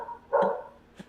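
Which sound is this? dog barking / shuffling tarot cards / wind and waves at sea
dog barking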